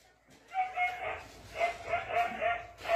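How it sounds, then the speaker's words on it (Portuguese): Several agitated dogs bark and yip repeatedly in short bursts, fairly close by, with a person talking over them. "Tá ouvindo a zoada aí dos cachorros latindo?"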